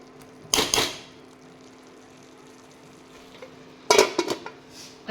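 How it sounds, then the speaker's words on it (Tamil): Vegetables cooking in oil in a pot are stirred in two short, close bursts of scraping and sizzling, separated by a quiet stretch with a faint steady hum underneath. "இடையில இடையில மூடி திறந்துட்டு இப்படி கிண்டி கிண்டி விட்டுறணும்"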